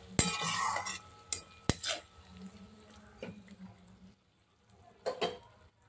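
Spices stirred and fried in a pan for a fish-head moong dal: a metal spoon scrapes and clinks against the pan in scattered strokes over a faint sizzle, with brief quiet gaps between.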